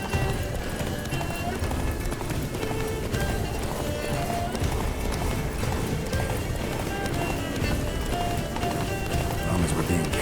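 Roach, a horse in The Witcher 3: Wild Hunt, gallops with a steady clip-clop of hooves over a dense, continuous game soundscape, with voices talking over it throughout.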